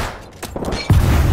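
Gunfire in the shooter Apex Legends, a short burst of shots that starts faint and turns into a loud, dense rattle near the end.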